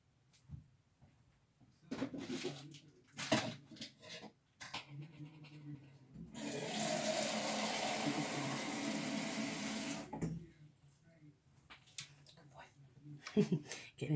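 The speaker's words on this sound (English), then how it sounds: "now we're going to fill them up with water till about here, just the rim" A kitchen tap runs water into jars of rice in one steady gush lasting several seconds, fairly loud. Clinks of jars and handling noises come before and after it, and a person talks in between.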